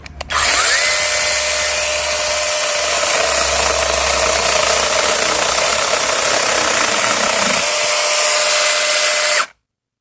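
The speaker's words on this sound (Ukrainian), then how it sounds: "Прикольна маленька пилочка. Спробуємо." A small Tex.AC TAOE-S6 cordless battery chainsaw runs with a steady, close, high motor whine for about nine seconds before cutting off abruptly.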